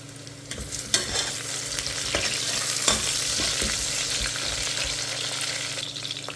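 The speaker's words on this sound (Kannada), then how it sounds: "ಬದನೆಕಾಯಿ ಹಾಕ್ಕೊಂಡು 1-2 ನಿಮಿಷ ಫ್ರೈ ಮಾಡ್ಕೊಳ್ಳೋಣ" Eggplant pieces fry with kasuri methi in a pan, a dense continuous sizzle broken by repeated scraping and knocking of a spatula as the mix is stirred, close and fairly loud with no talk.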